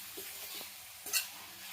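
Eggplant and potato curry frying in oil in a pan, a steady close sizzle with a few soft scraping stirs and a brief louder hiss near the end.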